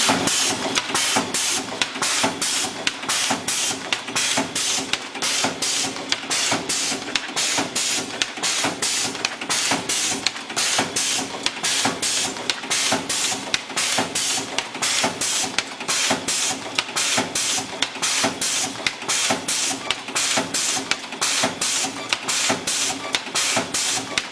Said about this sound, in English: So we turn the machine on, turn on auto cycle, and we're going to cut sheet feed.